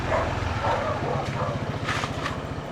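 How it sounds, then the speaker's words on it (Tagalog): A dog on a mini farm barks as it comes out, several quick barks and yips close by with a low engine-like rumble in the background. "Lalabas yung aso."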